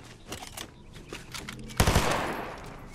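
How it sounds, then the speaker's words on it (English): Loud unsuppressed gunfire bursts in the Fortnite video game, a sharp rapid volley cracking out after a stretch of quieter game noise and clicks, then trailing off into a decaying rumble. "gun is not suppressed at all"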